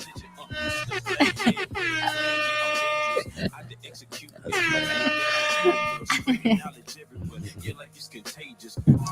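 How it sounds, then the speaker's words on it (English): Two long blaring air-horn blasts in a song, with rich stacked harmonics, ring out over a steady low musical drone, separated by short bursts of voice. "this song deserves air horns"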